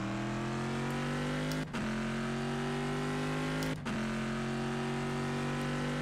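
A Corvette race car in the rFactor 2 racing simulator drones with a steady, loud engine note, briefly cut twice by quick gear shifts before the revs climb again.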